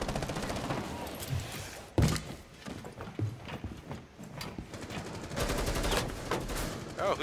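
Gunfire cracks in a Rainbow Six Siege Terrorist Hunt match, with sharp shots and bursts of rapid fire spread across the scene, one loud, close report early on and quieter clattering mechanical sounds in between.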